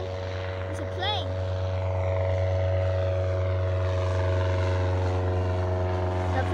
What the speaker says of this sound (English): The plane just took off.